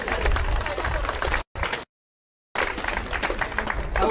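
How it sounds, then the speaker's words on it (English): A crowd cheering and applauding for King Charles at an Edinburgh 900 cake-cutting celebration in Edinburgh, a steady wash of clapping and cheers that cuts out briefly partway through, then resumes. "yes, give him a cheer"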